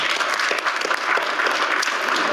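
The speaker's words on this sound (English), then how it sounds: "I'll just give them a round of applause for all that they do." Applause at a City of Little Rock board of directors meeting: a dense, steady round of clapping from a roomful of people, fairly close and sustained throughout.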